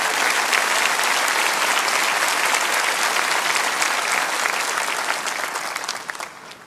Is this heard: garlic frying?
no